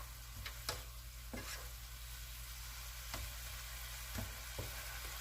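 Arroz con pollo being stirred in a pan, with a steady low sizzle underneath and a handful of sharp scrapes and clacks of the spoon against the pan at irregular intervals, close and moderately loud, with no talking.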